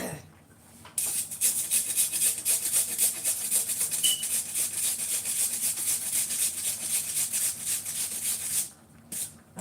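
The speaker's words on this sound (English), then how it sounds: "Now these are already washed, you can just grate it in that way." Washed baking potato grated by hand for soup in a home kitchen, a steady rhythmic scraping rub against the grater running for several seconds, close and moderately loud, stopping briefly at both ends.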